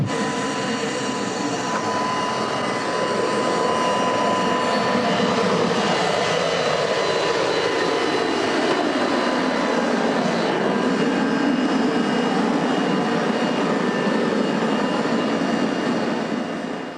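Bombardier Challenger jet aircraft on the ground during testing, its loud steady engine roar filling the scene and swelling slightly as it runs continuously without voices.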